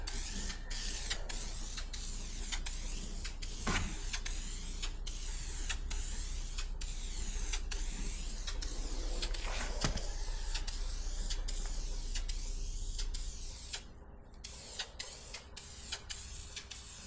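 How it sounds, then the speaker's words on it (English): Aerosol spray can laying light primer coats on the oil pan of a 1952 Chevy truck: a steady hiss broken by regular short clicks and brief pauses, with a quieter stretch near the end. "I did 3 light coats of primer."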